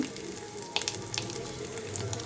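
Baby potatoes fry lightly in oil, giving a close crackling sizzle with scattered sharp pops and spits over a soft steady hiss, heard alone without any talk.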